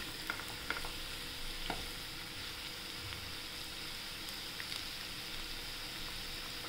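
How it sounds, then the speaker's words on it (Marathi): Potatoes sautéed with coarsely crushed peanuts in a pan, a continuous quiet frying sizzle with a few faint utensil clicks and scrapes, close and steady without talking. "आता छान परतून घेऊया."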